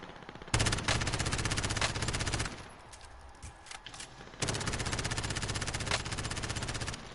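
Sustained automatic gunfire in Call of Duty Warzone, with two long loud bursts of rapid shots separated by a quieter stretch of scattered distant firing.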